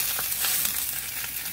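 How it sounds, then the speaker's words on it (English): Bok choy sears in a hot pan, giving a steady, close, even sizzle with soft crackles and no voices over it. "When this starts to sizzle, you can see how it's starting to brown up nicely."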